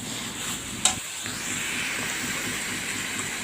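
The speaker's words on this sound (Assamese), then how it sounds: "মাংসখিনি ভালদৰে এনেদৰে লৰাই ভালদৰে ভাজি লৈ ল'ম" Meat is stirred and fried in a pan, giving a faint, steady sizzling hiss. A single small clink of the spoon comes early on.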